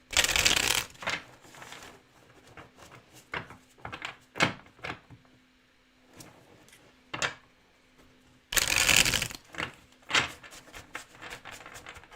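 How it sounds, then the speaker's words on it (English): Tarot cards are shuffled in two loud riffling bursts, with soft slides, taps and card handling in between during a quiet reading. "So I am going to shuffle the cards"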